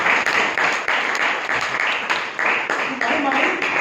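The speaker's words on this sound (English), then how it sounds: "Let's give him a round of applause for that." Audience members at a Bangalore Toastmasters meeting give a round of applause, a brief, close, steady burst of clapping with slight pulsing throughout.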